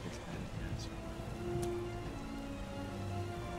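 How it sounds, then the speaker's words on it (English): Steady rain falls in the video game Heavy Rain, a dense, even patter that runs throughout at moderate level beneath faint tonal game sounds. "Oh, that's the rain."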